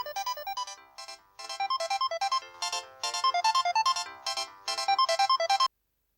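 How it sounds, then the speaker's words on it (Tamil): A mobile phone rings with an incoming call, a bright electronic melodic ringtone repeating in short rhythmic bursts of rising notes, clear and close, then stopping abruptly. "இந்த சாமியார் பையனுக்கு இந்த நேரத்தில் யார் ஃபோன் பண்ணுறான்னு தெரியலையே பார்ப்போம்"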